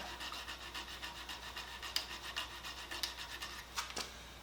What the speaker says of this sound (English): Clean off the end of the magnet, get the rust off of it.